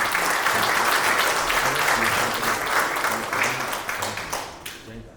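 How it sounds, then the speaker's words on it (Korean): Loud, sustained audience applause at a Korean commemoration ceremony for the anniversary of the Battle of Fengwudong, dense clapping with a faint voice underneath, tapering at the end. "큰 박수로 맞아주시기 바랍니다."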